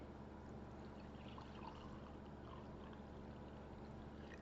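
Ammonia poured into a jar, a soft, continuous liquid trickle and splash, faint and close, held steady for a few seconds without talk.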